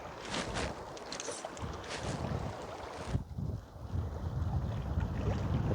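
Gusty wind blows beside a river during a spring fly-fishing session in Ireland, a steady loud rush with buffeting noise on the microphone that briefly dips before building again.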